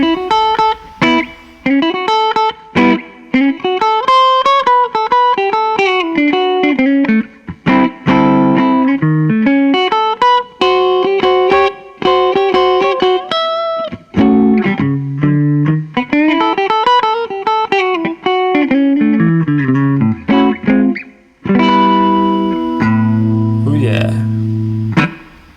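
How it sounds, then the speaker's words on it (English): An electric guitar lick recorded in a studio, played first with distortion on and then with it switched off. Sustained, close melodic phrases run continuously, and a chordal passage comes near the end. "let's start the lick with the distortion on and turn it off."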